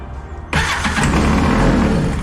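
A Kawasaki JS300 jet ski engine cranks and catches after half a second of quiet, then settles into a loud, steady, close-up running roar with no talk over it.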